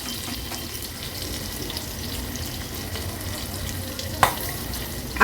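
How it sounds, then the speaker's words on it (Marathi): Curry leaves, garlic cloves and green chilies sizzle in hot oil for a tempering, giving a steady close crackling hiss with one sharp clink near the end. "कढीपत्ता लसणाच्या पाकळ्या आणि हिरवी मिरची घालणार आहोत फोडणी थोडीशी आपल्याला परतून घ्यायची आहे"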